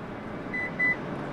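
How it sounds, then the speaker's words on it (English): Two short electronic beeps from a Lexus LX 600 during a reset sound over a steady background hum, the second slightly longer than the first. "Six total beeps, now we're reset."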